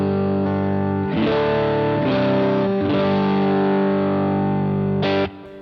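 High-gain electric guitar played through the Boutique amp model of a BOSS GX-100 processor: saturated, distorted chords ring out in several sustained strums, loud and up close, then cut off sharply at the end.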